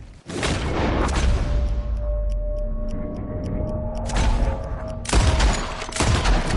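Gunfire from a Red Dead Redemption 2 duel, a burst of loud shots at the start and another cluster near the end, with a series of sharp ticking clicks between them over a steady game ambience.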